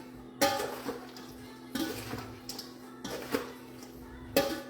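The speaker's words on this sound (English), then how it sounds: "A spoon, the metal one. Alright. Just stir it around." A metal spoon stirring ceviche in a bowl, giving four sharp clinks against the dish at a steady, unhurried rhythm. Each is followed by soft scraping and sloshing, close by and fairly quiet.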